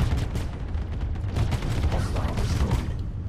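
Continuous rapid gunfire from normal ship guns in the Star Citizen space game, a dense rattling barrage that never lets up, loud and close throughout.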